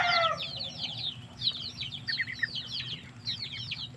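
A farmyard mother hen clucks repeatedly in short, throaty bursts close by, with chirpy calls of chicks scattered over a low outdoor rumble.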